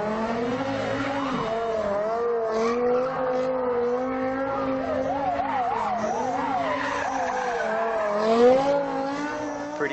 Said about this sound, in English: Pretty cool to make your car do donuts, right?